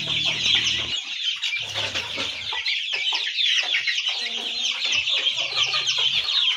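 Young Aseel chicks and turkey chicks peep and cluck continuously at close range, a busy, overlapping chorus of high calls with a few lower clucks.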